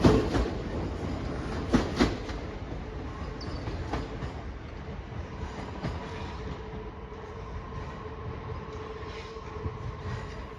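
A diverted Cross Country train runs past on the Cross City Line between Sutton Coldfield and Aston, a steady rolling rumble with clickety-clack of wheels on rail joints and a few sharper knocks early on, fading slightly toward the end.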